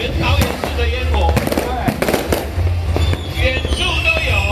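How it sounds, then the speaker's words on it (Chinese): Fireworks for New Year's Eve pop and crackle across Taoyuan City from a hillside restaurant viewpoint, with clusters of sharp bangs over a continuous rumble and crowd voices. "远处都有烟火，每个地方都是放烟火"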